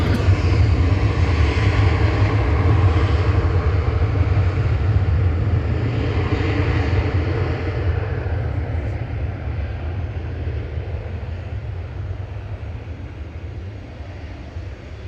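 Ryanair airplane EI-GXM at Manchester Airport, bound for Gran Canaria, sends out a loud, deep engine roar that is strongest at first and gradually fades and thins as it moves away.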